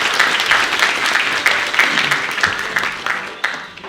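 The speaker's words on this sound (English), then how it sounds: "give them another round of applause" A church congregation at a Smyrna UMC special song service applauds the group, a full, even wash of clapping that gradually thins and fades toward the end.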